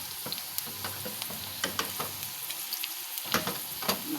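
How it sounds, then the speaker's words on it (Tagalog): Chicken sautés in a hot pan for a Filipino ginisang dish, with a steady close sizzle and scattered scraping and clinking of a utensil stirring the pieces. "Magluluto tayo ng gisadong latoy with chicken."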